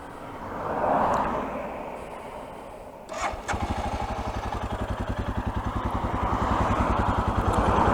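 A Royal Enfield Himalayan motorcycle starts up after a passing rumble, then its single engine settles into a loud, close, steady thumping idle that builds slightly toward the end.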